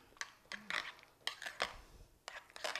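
A spoon mixes mashed, slightly firm avocado in a bowl, making faint, quiet taps and short scrapes against the bowl in an irregular rhythm.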